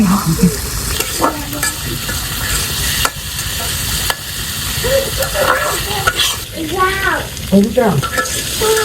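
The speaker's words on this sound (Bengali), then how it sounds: "কচুর মুখিটা একটু ভাজি হয়ে গেছে" Taro (kochur mukhi) fries and sizzles in a pan, with steady stirring scrapes and a busy crackle running throughout the clip at close range and fairly loud level.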